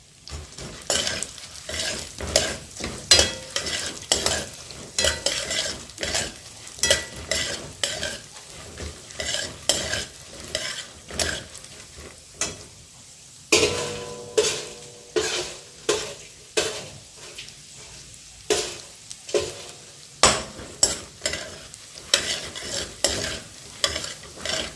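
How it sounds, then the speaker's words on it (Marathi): Pumpkin and sunflower seeds are dry-roasting in a pan over a very low flame, with a spoon scraping and stirring in repeated rhythmic strokes against the metal and the seeds rattling and rustling, close and clear, with no talking. "दोनच मिनिट भाजून घेऊया."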